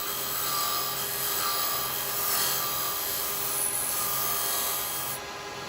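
A carbide chisel making a shear cut on wood spinning on a lathe, a continuous close rasping hiss with gentle swells in intensity, steady for about five seconds before easing off, with no talking.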